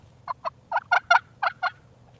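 A turkey gobbles in a quick burst of about eight rapid, bubbling notes, clear and close against a faint low background hum.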